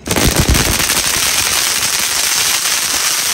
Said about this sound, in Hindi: अब हो गई है शुरुआत पटाखों की जलाने की